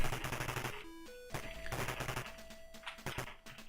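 Rapid enemy gunfire from the Atari ST game Commando, chiptune-style bursts of shots crackling over bright looping game music and sound effects, with no voices.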